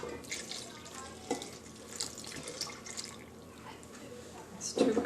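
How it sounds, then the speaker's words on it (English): Water pours from a cup into a bowl of sourdough bread mix, a few intermittent splashing gushes with a louder pour at the end, close by, with quiet background noise. "I'm going to add 3 cups of water."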